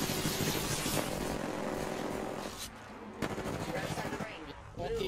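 Rapid gunfire rattles through a busy Apex Legends firefight, layered over dense game noise with a brief lull partway through before the shooting picks back up.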